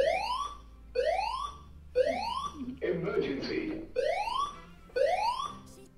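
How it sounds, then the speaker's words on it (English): A loud electronic emergency evacuation alarm in an office building repeats rising whoops at a steady rhythm, with a brief burst of muffled voices partway through. "we heard the emergency alarm"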